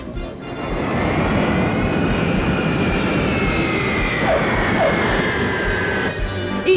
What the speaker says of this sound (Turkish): Harun Bey de bu uçakla geliyor değil mi?